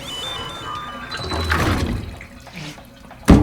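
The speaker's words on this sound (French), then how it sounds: "J'en déduis donc que vous étiez sous la douche." Running shower water in the video game Death Stranding, a steady rushing spray with shifting, gurgling water tones and a sharper splash or knock near the end, with no speech.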